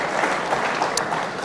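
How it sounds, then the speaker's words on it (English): Brief burst of dense applause from an audience at a West Point university lecture, steady and full for a moment with no speech. "Come on, give me a round of applause."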